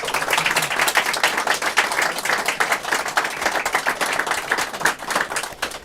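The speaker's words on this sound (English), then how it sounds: "Big round of applause" Applause from a panel audience, steady dense clapping filling the whole stretch at moderate loudness with no voices over it.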